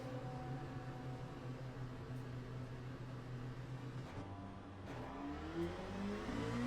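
An LMP2 prototype race car in the sim racing game Le Mans Ultimate, its engine droning steadily at a constant high level and pitching through gear changes, with no talk over it.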